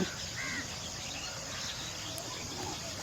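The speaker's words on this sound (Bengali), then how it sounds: "প্রচুর পরিমাণে পাখি রয়েছে" Crows caw amid a steady outdoor hiss and insect chirring in an open field, with other birds calling faintly in the distance.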